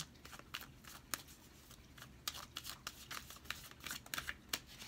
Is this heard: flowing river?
no